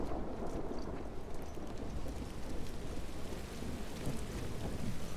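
Steady, dense rain pours with low rumbling thunder in The Last of Us Part 2, a continuous loud storm wash with no breaks.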